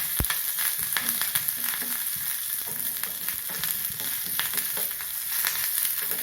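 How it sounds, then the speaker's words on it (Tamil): Mustard seeds and urad dal sizzle and crackle in hot oil for a South Indian tempering, a loud, continuous frying hiss with a few sharp pops near the start and no voices. "எண்ணெய் காஞ்சிடுது. கடுகு, உளுத்தம் பருப்பு போட்டுக்கலாம்."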